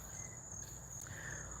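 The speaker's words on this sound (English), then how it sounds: "so you can hear all the crickets and stuff" Crickets chirp outdoors at night in a thin, steady high trill that continues throughout, faint and distant with no one speaking.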